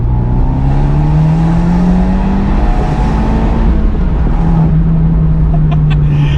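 An Abarth 124 Spider engine hums and rises in pitch under acceleration, a steady loud drone with a whirring tone, recorded close with some road and wind noise and no talking.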